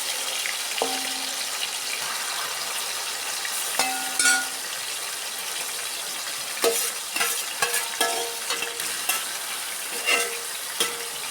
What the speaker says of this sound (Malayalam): ഇനി നമുക്ക് ഇത് എണ്ണയിൽ വറുത്തെടുക്കണേ